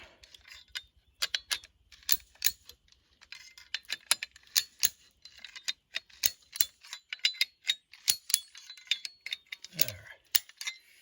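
Repeated metallic clicks from a ratchet tensioner being cranked to tighten fence wire for a bison enclosure, sharp close ticks in uneven bursts with light background noise.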